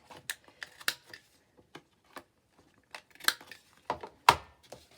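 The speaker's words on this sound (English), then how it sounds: "I'm going to cut those corners off again because I prefer them rounded" Scissors snipping the corners off paper for a one-page mini album, a few short close crisp cuts spread across the moment, with soft paper handling between them.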